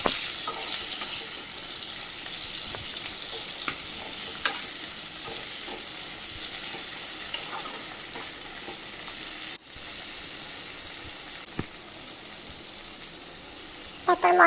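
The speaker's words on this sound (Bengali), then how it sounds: "এরপরে টমেটো আর কাঁচা লঙ্কাটা দিয়ে দেবেন। দিয়ে এটা কিছুক্ষণ ভাজবেন যতক্ষণ না টমেটোগুলো ভালোভাবে গলে যাচ্ছে" Tomatoes and green chilies fry in a pan for a curry served with roti, giving a steady, close sizzle with occasional scrapes and stirring clicks throughout.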